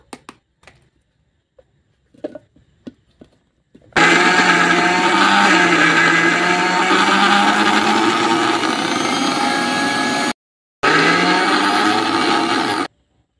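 A mixer grinder pulverizes dry coconut into powder, a loud steady whirring grind running for several seconds, cutting off briefly, then resuming before stopping, preceded by faint clicks and handling sounds.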